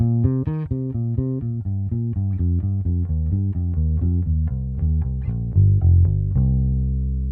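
A melodic instrument, likely electric guitar, runs a steady descending pentatonic line of quick notes, ending on a held tone. No voices.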